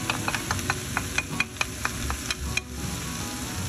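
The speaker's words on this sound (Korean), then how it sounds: "이렇게 재료들을 먼저 볶아줘야 국물 맛을 좀 더 진한 맛을 낼 수 있습니다" Vegetables being stir-fried in a hot pan with chopped mussels: onion, carrot, zucchini, napa cabbage and cheongyang chili. The sizzle is steady, and a spatula scrapes and clacks against the pan in irregular, close, distinct strokes. No one speaks.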